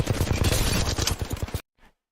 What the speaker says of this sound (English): The moment that you hear the shot, you already know he's Spitfire.